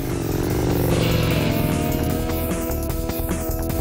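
An Aprilia RSV Mille motorcycle with a one-off custom exhaust system runs loud and close, its engine note droning steadily with rhythmic pulsing and slight rises in revs throughout.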